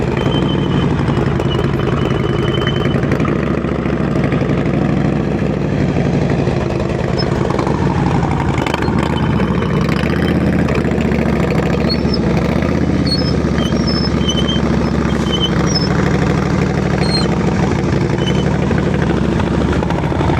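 Motorcycle engine held at low speed during advanced slow-speed riding practice, a loud, steady throbbing drone with slight throttle variations, close by and continuous with no talking.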